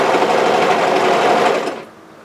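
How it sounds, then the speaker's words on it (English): An overlock sewing machine runs steadily as it sews and trims a sweatshirt sleeve seam, a dense, loud whirring buzz that stops abruptly near the end. "Let the machine cut off the threads from the sleeve seam as you progress through."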